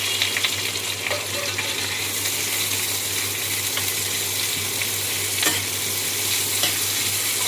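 Chopped onions fry in a hot pan with garlic, giving a steady, close sizzle with occasional stirring scrapes, loud and continuous with no talking.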